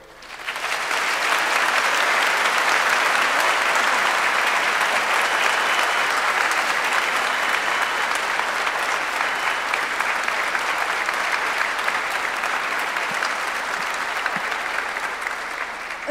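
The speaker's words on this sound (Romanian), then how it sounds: "Să-i aplaudăm că este momentul lor." An audience in the Roman Catholic Cathedral in Iași applauds a Christmas choir concert, loud sustained clapping that begins abruptly and carries on evenly for many seconds.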